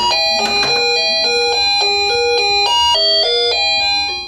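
A doorbell just repaired by student electricians plays a loud, clear electronic chime melody of repeated ding-dong tones close by, lasting several seconds with no speech over it.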